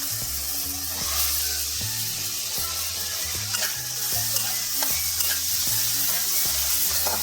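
Potatoes are stirred into an onion-garlic masala in a pan, a constant close sizzle with scraping strokes, steady and dense, over a faint low background tone.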